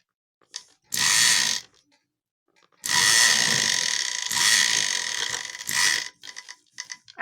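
A sewing machine stitches the shoulder seam of an off-shoulder blouse with a half-inch margin, in several short bursts of rapid, close mechanical whirring separated by quiet pauses and faint handling clicks.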